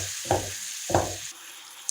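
Potatoes with yogurt cook in a pan over a medium flame, two short bursts of stirring and sizzle over a soft background hiss, close by, with no voices.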